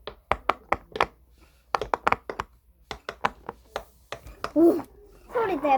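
Crisp, close pops from a silicone pop it push pop fidget toy come in quick uneven bursts, then give way to voices talking near the end.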